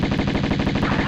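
Rapid Uzi fire in the PS1 game Tomb Raider, a loud, steady burst of evenly spaced shots rattling without a break for about a second, with no voices.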